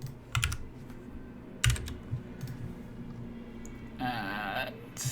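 Typing on a computer keyboard during packet-capture analysis work: irregular bursts of clicking keystrokes, close and moderately loud, with pauses between flurries and a brief louder rattle near the end, no speech.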